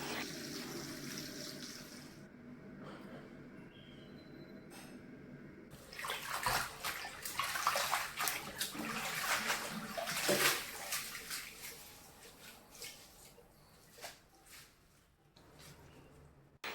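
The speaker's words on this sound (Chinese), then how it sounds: "刚摘回来的紫苏都清洗几遍，清洗干净" Freshly picked perilla leaves are rinsed under running water, a continuous splashing gush that swells louder in the middle and eases toward the end, with soft handling noises as the leaves are swished.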